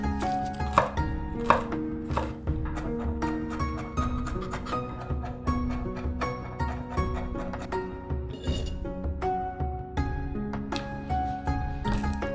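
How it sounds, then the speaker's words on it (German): Garlic cloves being crushed and finely chopped with a knife on a board, a steady run of crisp, close chopping taps with a few brief squishy crunches, no talking. "Knoblauchzehen zerdrücken und fein hacken."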